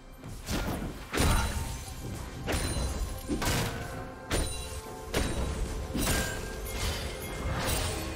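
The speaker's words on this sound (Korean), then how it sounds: "빨간 팀의 포탑이 파괴되었습니다." A League of Legends turret is destroyed during a ranked top-lane match. Repeated heavy thuds and crashing impacts land about once a second over a busy game soundscape, with no talk.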